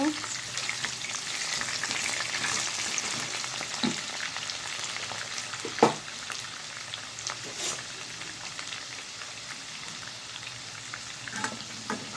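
Potatoes fry in a pan with a constant bubbling sizzle, broken by a few sharp knocks and scrapes of a spoon against the pan.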